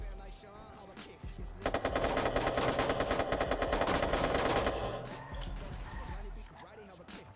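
A rapid burst of automatic gunfire in Watch Dogs 2 lasting about three seconds, loud and steady, with quieter background sounds and faint talk before and after.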